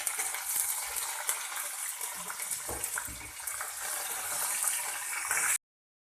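Curry leaves hit hot oil for tempering puliyogare, a Karnataka temple-style tamarind rice, giving a bright, continuous sizzle and crackle that holds steady for several seconds and then cuts off abruptly.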